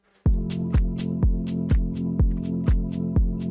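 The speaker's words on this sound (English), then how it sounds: "I previously already had a MIDI track in my default Ableton Live session that has a hi-hat on every 8th note," Crisp hi-hat ticks on every eighth note land at an even, quick pace, about eight in a row, each paired with a pulsing low synth drone in a melodic vocal house track.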